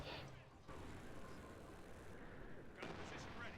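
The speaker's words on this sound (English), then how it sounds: "He's doing some artillery strikes now." Artillery strikes in Company of Heroes 2 rumble as dense, continuous low booming with overlapping impacts, broad and sustained across the whole moment, with talk running underneath.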